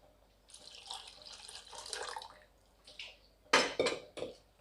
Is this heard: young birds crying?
no